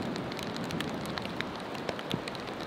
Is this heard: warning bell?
no